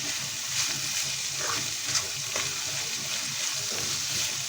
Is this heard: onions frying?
yes